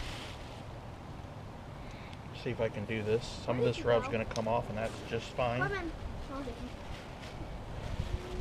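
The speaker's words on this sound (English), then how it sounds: "It's a little bit windy out here, so this is going to be a little bit difficult." Outdoor wind buffets the microphone with a steady rumbling roar throughout while someone talks during spare rib preparation.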